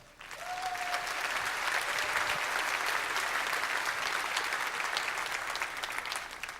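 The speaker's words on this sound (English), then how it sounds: "you're clapping at the wrong point." Audience at a corporate company gathering breaking into applause, a dense sustained clapping wash that swells in quickly and holds steady, moderately distant, with a brief tone at the start and no talking.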